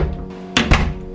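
A door pushed shut inside a small wardrobe-like closet at home, two close, solid thuds about a sixth of a second apart, loud and near, with no talking.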